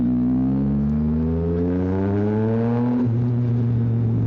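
A 2024 Yamaha MT-09 SP motorcycle engine revs up steadily, its pitch climbing smoothly over about three seconds before settling into a loud, sustained drone, close to the microphone with no talk.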